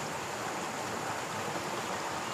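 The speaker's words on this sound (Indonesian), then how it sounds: "Arus air mengalir." Steady, even rush of a clear, shallow river current flowing below a roughly 30-metre cliff at a recreation spot, a continuous close wash of water with no voices.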